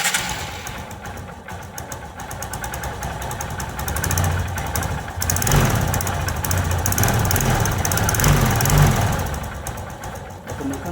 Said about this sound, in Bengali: এখন আমরা আমাদের ইঞ্জিনের সাউন্ড চেক করব।